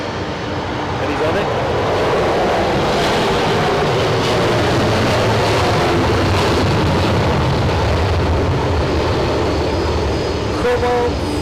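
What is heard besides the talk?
Boeing 767-300ER jet taking off at Zurich Airport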